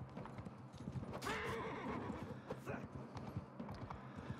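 A horse in the Mount and Blade 2: Bannerlord video game gallops with rhythmic hoofbeats and lets out a loud neigh early on, set against a busy tournament-arena background with voices mixed in.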